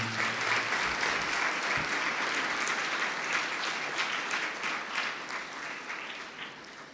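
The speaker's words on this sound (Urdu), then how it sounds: "زوردار تالیوں میں" A church congregation at St. John's Catholic Church in Youhanabad, Lahore, claps during a fourth Advent Sunday service, the steady crowd applause heard at moderate distance and tapering slightly toward the end.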